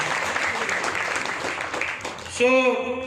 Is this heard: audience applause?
yes